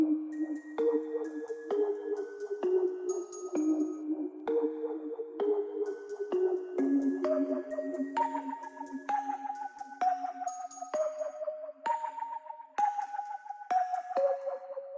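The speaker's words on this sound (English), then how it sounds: "This bell sort of sounds like an echo of the original one" Dark, resonant bell one-shots made in FL Studio 20 strike one after another in a slow melodic sequence, each ringing out with a lingering echo tail.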